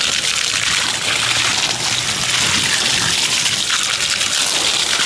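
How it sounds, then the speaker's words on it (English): Water gushing steadily at a boot washing station, a loud continuous rushing spray heard up close without voices. "I just want to show you this boot washing station."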